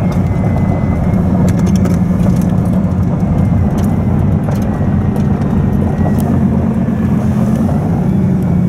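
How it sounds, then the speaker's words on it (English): A bright orange Bugatti Veyron passes a courtyard with a loud, steady engine roar and broad rumble that holds throughout without fading, no voices over it. "You'll see a bright orange Veyron driving past in a second."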